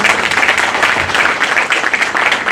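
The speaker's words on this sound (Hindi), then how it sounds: "जोरदार तालियों से स्वागत करें।" Loud, dense applause from a gathered audience welcoming a chairman, a continuous roar of many clapping hands held at full strength for a few seconds with no talk.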